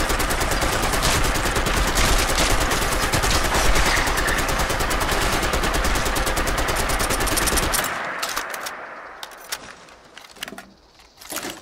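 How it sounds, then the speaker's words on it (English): An M60 machine gun in Fallout 4 fires a long sustained burst, loud rapid galloping shots for about eight seconds, then a few scattered clicks and clatters as it stops. "The steady gallop of the M60 firing is like music to the ears."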